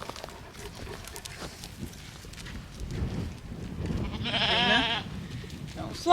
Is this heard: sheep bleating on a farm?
yes